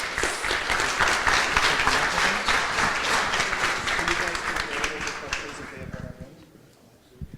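Breakfast-event audience applauds case-study presenters with a lively round of clapping, full at first and gradually thinning before dying out near the end, with some chatter mixed underneath.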